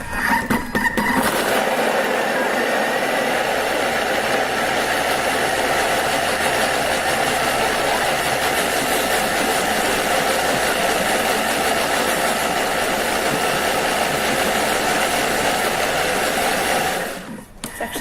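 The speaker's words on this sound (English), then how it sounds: "we're going to blend that one for starters on speed 6 for about not a minute, probably about 20-30 seconds" A Thermomix blends vegetable stock at speed 6, a steady loud whirring motor roar with broadband churning that runs for about fifteen seconds and then cuts off, with no talking.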